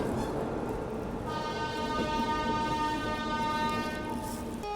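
The Howrah Rajdhani Express overtakes the Prayagraj Express on a foggy run, with a steady rumble of rolling wagons and a sustained horn tone that rises over it midway, with no voices.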